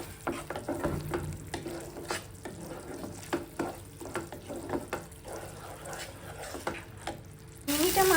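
Spiced masala with salt sautés in a pan for a mustard-poppy prawn curry, making faint sizzling under repeated scraping stir strokes at an uneven pace. A louder burst comes at the very end.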